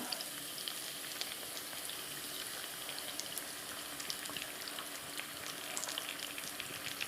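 An omelette sizzles steadily in a hot pan, a continuous bright hiss with faint crackles and pops throughout, and no talking.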